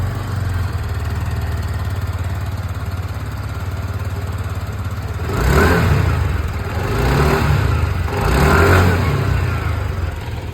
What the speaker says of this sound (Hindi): अब यहाँ पर मैं आप लोगों को जुपिटर 125 की जो आवाज़ है वो भी यहाँ पर सुना दूँ।